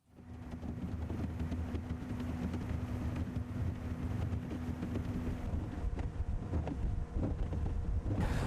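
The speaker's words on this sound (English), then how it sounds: "We are on our way to Kiangwe village in Lamu using this speedboat to get there" A speedboat travels on water toward a village in Lamu, Kenya, its steady engine drone mixed with heavy wind buffeting and water rush, continuous and loud for the whole stretch with no talking.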